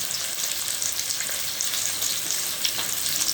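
Onions and mint frying in hot oil for a mutton curry, a steady close sizzle with broad crackling hiss throughout and faint stirring underneath, no voices.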